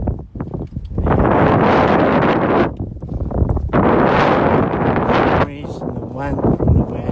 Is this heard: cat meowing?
no